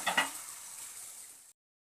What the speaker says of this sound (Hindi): इसको भी बराबर से चला देंगे। इसमें गरम मसाला डालेंगे